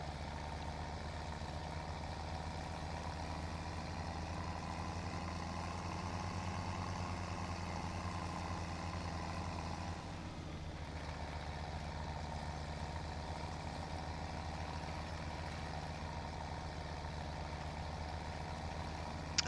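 A tractor engine in Farming Simulator 2017 drones in a steady, continuous hum with a low, heavy tone, briefly dipping midway and then holding on without any talk.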